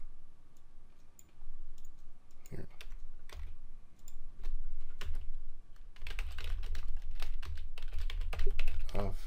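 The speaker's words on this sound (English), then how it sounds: "let me just type it in" Rapid typing on a computer keyboard, close and clear, with dense clicking bursts that grow busier toward the end and a voice faintly in the background.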